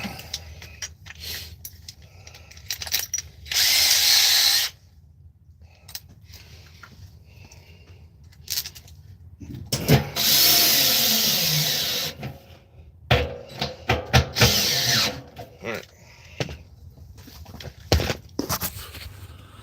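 A power drill with a 3/8 drill bit whirs in several bursts of differing length, with clunks and handling noises in between, close by.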